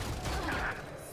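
A rapid burst of overlapping gunfire rattles through a Valorant esports match, dense and continuous, with faint commentary underneath.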